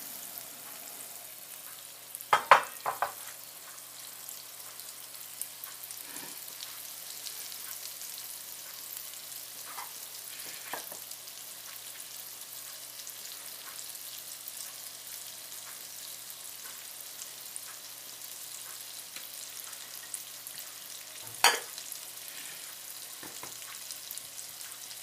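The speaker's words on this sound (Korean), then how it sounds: "버터 1큰술을 녹이겠습니다" Butter melting and sizzling in a frying pan used earlier to cook fish for a butter sauce, a soft steady crackle with a few louder clinks and scrapes, no talk.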